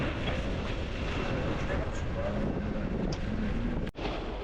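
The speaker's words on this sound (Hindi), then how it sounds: "बहुत ज़्यादा हवा चलता है यहाँ पे।" Strong wind gusting at Baku airport in Azerbaijan, a steady broadband roar buffeting the microphone, with a brief dropout near the end.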